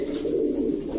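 A Pakistani Siraj pigeon, one side white and one side black, gives a single low, throaty coo, close and steady, with no voices.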